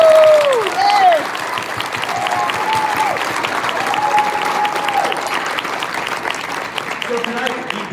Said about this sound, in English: join me in a round of applause and appreciation for everyone that made tonight possible